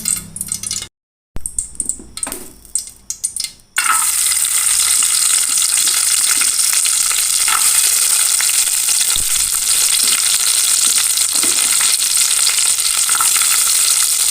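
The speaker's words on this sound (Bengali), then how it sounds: "তো সবার প্রথমে ঘিয়ের মধ্যে কাজু কিশমিশগুলো দিয়ে একটু ভেজে নেব।" Cashews and raisins frying in ghee, preceded by a few soft clinks and quiet handling, then a loud, even sizzle that starts abruptly and holds steady to the end.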